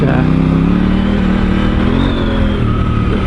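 Motorcycle engine droning close up while riding on a loose dirt trail, with the revs rising and falling steadily and the noise of rolling and clattering underneath.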